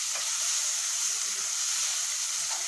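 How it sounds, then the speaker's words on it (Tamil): Tomato masala sizzles steadily in hot oil in a pan for an okra gravy, a loud continuous frying hiss with faint stirring scrapes underneath. "நல்லா கொஞ்சம் ஃப்ரை ஆகணும் ஆயிலால்."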